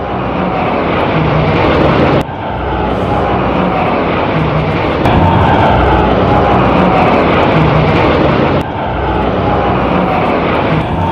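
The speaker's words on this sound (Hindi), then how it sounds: "सुखोई और मिग भी आकाश को चीरते हुए गर्जना कर रहे थे" Sukhoi and MiG fighter jets in a Republic Day flypast over India, a loud, steady roar of jet engines sweeping overhead with a slowly shifting pitch and a few abrupt cuts.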